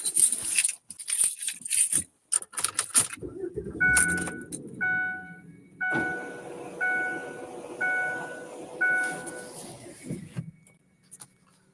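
Keys jangle and clink in short bursts during a search for them at a park, with a repeating chime-like electronic tone in the background.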